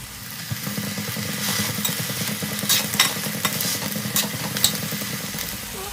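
Green chillies fry in a pan for a mint chutney, giving a steady crackling sizzle with light stirring scrapes, close and continuous without any talk.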